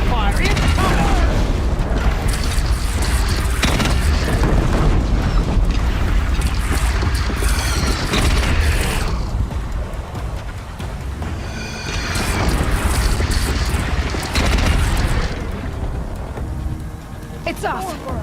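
Deathbringer machine firing in Horizon Zero Dawn, with loud rumbling booms and blasts rolling almost continuously and a steady crackle running through them, while voices call out under the noise.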